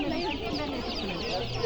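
Young poultry chicks at a busy poultry market in Khazarasp chirp and peep in a dense, continuous chorus close by, with faint market voices mixed underneath.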